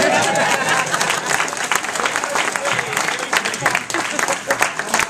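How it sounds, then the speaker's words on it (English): Audience at a political talk applauding for people from Arizona on the left, a dense steady spatter of clapping with some crowd voices mixed in, fairly loud throughout. "anybody from Arizona who is on the left deserves a round of applause"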